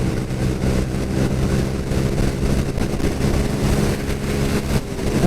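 A 2022 Honda Super Cub 125 motorcycle accelerates hard in third gear, its small engine buzzing loudly and steadily against heavy wind and road rumble, with no voices over it.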